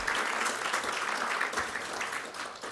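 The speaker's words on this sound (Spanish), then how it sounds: "Le damos un aplauso cariñoso por acompañarnos." Warm applause from the audience at a closing ceremony of the academic year at the Instituto de Chile, steady dense clapping throughout with no speech over it.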